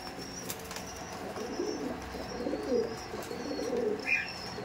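Racing pigeons at a pigeon market coo softly and now and then flutter their wings, forming a faint, continuous murmur set against background noise.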